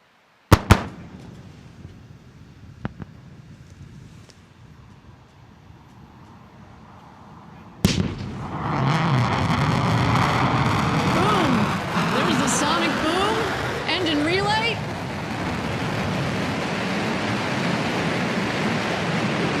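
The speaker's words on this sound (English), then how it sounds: "we will look for the firing of the BE-3 rocket, sorry, the BE-3 engine, that is, that will slow it to just 4 or 5 miles an hour" Blue Origin New Shepard booster on its NS-12 mission, BE-3 rocket engine relighting for landing: a sudden loud broadband roar bursts in partway through and holds steady to the end, following quieter crackling broadcast commentary and background noise.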